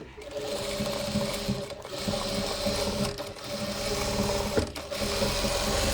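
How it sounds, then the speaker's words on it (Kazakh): Sewing machine stitching two seam lines through a patchwork quilt backed with velour, a close, continuous mechanical whir and clatter with brief dips in pace. "мына жерден бұлай 2 жол тігіп алдым"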